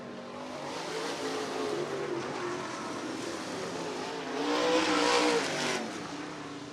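Late model race cars at Cottage Grove Speedway roar steadily past in a feature race, a continuous loud engine drone that swells briefly as cars come near, with faint tire noise and no talk.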